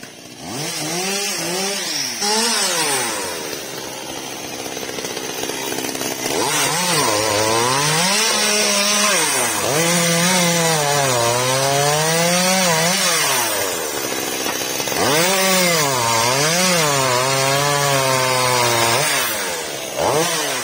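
A Makita chainsaw cuts through an old coconut tree near a garage, its engine repeatedly revving up and bogging down under load in long wailing surges; close, loud and continuous, with no talking.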